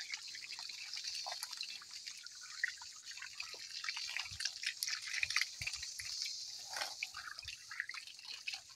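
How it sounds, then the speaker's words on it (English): Water drips and trickles into soil while planted fig cuttings and a pineapple plant are watered, giving irregular wet splats and a light patter over a faint steady hiss. "Get it real nice and wet."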